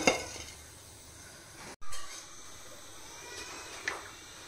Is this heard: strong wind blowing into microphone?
no